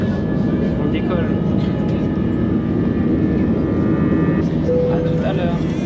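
An airliner takes off on a flight from Paris to Marrakech, its engines giving a steady, loud cabin roar that holds evenly throughout, with a faint tonal whine rising briefly near the end.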